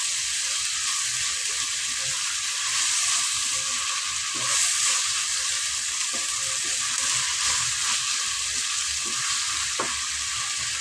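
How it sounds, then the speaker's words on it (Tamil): Steady sizzling of tomatoes sautéing in a pan for a salted meat thokku, with occasional soft clinks and stirring scrapes, continuous and close, no talking. "தக்காளி எல்லாம் கொஞ்சம் வதங்கி வரட்டும்"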